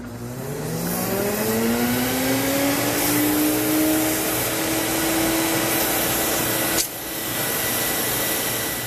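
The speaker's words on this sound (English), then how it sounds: "turn the machine on, and this will dry the hose for you." A Sirena water-filtration vacuum cleaner runs steadily to dry its hose, a loud continuous motor whine rising in pitch as it spins up, with a brief drop near the end before it settles again.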